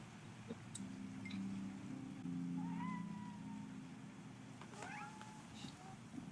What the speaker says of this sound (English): You got a lot of cats.